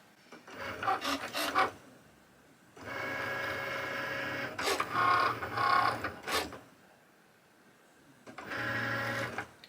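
A Cricut cutting machine cuts through a sheet of foam on its mat, running in three whirring, buzzing bursts separated by short pauses, close and clear with no talk.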